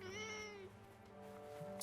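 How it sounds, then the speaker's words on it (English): A cat in the video game Forspoken gives a clear, drawn-out meow, close and fairly loud over a soft background hum. "Oh, it's another cat."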